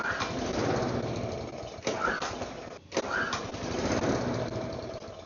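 A small engine, just refitted with its spark plug after sitting outside uncovered, sputters and catches, running unevenly with brief dips and restarts at moderate loudness.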